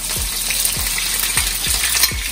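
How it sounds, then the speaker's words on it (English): Garlic, pepper and onions frying in a pan for Jamaican ackee and saltfish, a steady loud sizzle with a few soft stirring scrapes at regular intervals. "So first, I'm gonna put the garlic and the pepper in. The onions in."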